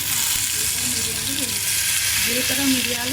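Cumin, black pepper and garlic crackle and sizzle in hot oil for pappu charu, a loud, continuous close-up frying hiss with faint background tones and no speech.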